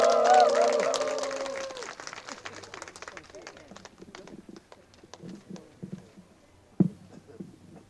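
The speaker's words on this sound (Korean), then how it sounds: "다시 한번 뜨거운 박수 부탁드리겠습니다." Outdoor audience clapping at a Korean peace ceremony, loud at first, then tailing off into scattered claps and crowd noise, with a tonal sound in the opening seconds.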